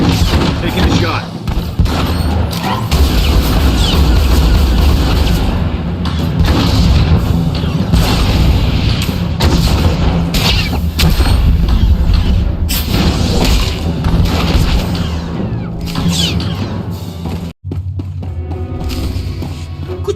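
Blaster shots ring out in Star Wars: The Old Republic as scattered heavy booms and thuds amid dense music and effects, with voices talking throughout.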